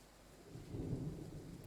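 A low rumble of thunder over steady rain in Train Sim World 3 on the Glossop line, faint and distant, swelling midway before easing.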